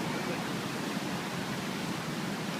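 Floodwater from Boulder Creek during the 2013 flood rushes in a steady, loud, broadband roar, close and unbroken throughout, with no voices.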